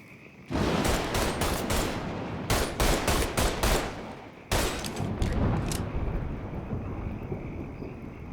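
Gunfire in the video game Mafia 3: loud, close bursts of rapid automatic shots in several clusters, with brief gaps between volleys, over a constant rushing background and no talk.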